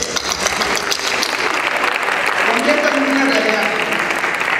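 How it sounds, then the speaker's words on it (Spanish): An audience at a school computing department event claps steadily and loudly for several seconds, a dense continuous wash of applause with faint voices underneath. "Así que un aplauso para ustedes."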